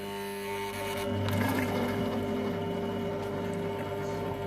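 Compact Cook Pro multicooker running at 100 degrees on speed 1 in reverse while cooking a carrot and smoked salmon risotto: a steady, close mechanical hum with a low whirring tone and faint stirring sounds, no talking.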